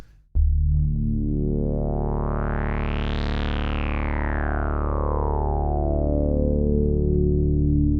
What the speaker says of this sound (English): somewhere around that 2/3 mark is just this very sweet, vowely, chirpy, Nick said bubbly